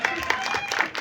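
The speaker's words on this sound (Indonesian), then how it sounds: "Tepuk tangan dong untuk Jeffrey Nicole." Dense applause from the audience at a film press conference, a brief continuous wash of clapping filling the room, moderately loud, with no clear speech over it.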